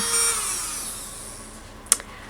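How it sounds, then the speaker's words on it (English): A small electric nail drill whirs with a high whine that gradually winds down, followed by a sharp click near the end. "you have to press this button to turn it on, and it turns the drill on"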